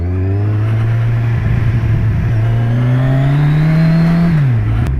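A 2017 Kawasaki Z1000 motorcycle engine downshifting, a loud, close droning exhaust note that rises steadily in pitch, then drops sharply with a quick blip as the next gear engages.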